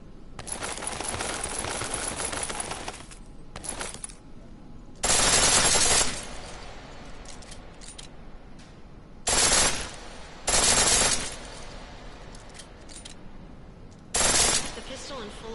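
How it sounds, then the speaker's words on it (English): Bursts of full-auto pistol fire in Deus Ex on PS4, several rapid, loud volleys of a second or so each, separated by quieter stretches with a voice talking. "The pistol in full auto will take down targets fast, but it'll burn through your ammo"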